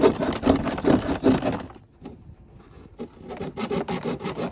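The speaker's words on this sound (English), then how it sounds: "This is really how you cut a bumper." Hand saw cutting through a Subaru BRZ bumper, rapid rasping back-and-forth strokes close up, pausing briefly mid-way before resuming.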